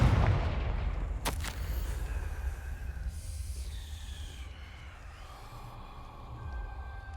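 A Confringo fire spell blasts in Hogwarts Legacy, with a sharp explosive crack near the start, then a rumbling, crackling low roar that slowly fades.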